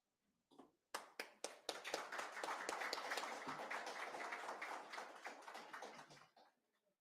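Applause from an audience at the media launch for Culturama 2023's 49 years of mas and spree: a few sharp opening claps, then sustained dense clapping that holds steady for about five seconds before fading out.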